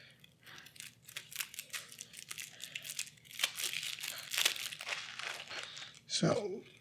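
Plastic shrink-wrap on a card game crinkles and rustles in quick close bursts during an unboxing, fairly faint, ending in a short crisp tear.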